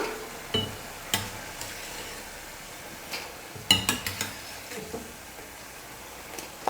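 Egg and potato snack frying in hot oil, a steady soft sizzle with scattered clinks and scrapes of a ladle against the pan, close and without talk.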